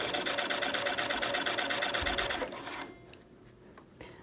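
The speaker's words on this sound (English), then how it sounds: "Now we're just going to sew a 1/4 inch seam using a regular straight stitch." A sewing machine runs a straight-stitch quarter-inch seam, a steady rapid mechanical chatter with even needle ticks for about three seconds before stopping, leaving faint handling noise and a final small click.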